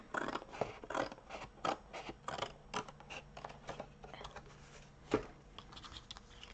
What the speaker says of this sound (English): when you cut your what do you call it, cereal box up